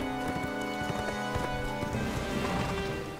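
Horse hooves clip-clop steadily in a horse riding video game, a quick even rhythm of close, loud hoofbeats over dense game music.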